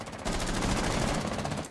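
Rapid bursts of gunfire in the video game Rainbow Six Siege, a dense automatic rattle lasting under two seconds, loud and close.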